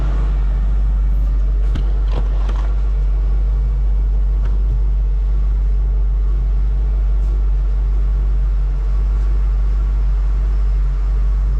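A 1973 Comet Maverick idling while being backed out of a garage, a steady, loud low engine drone that stays level throughout, with a few faint clicks and knocks above it.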